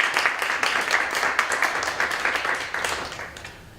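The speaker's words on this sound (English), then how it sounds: "Can we get a round of applause for the folks on?" Audience applause at a public talk, a moderate round of clapping from a modest crowd that holds for a few seconds and tapers off at the end.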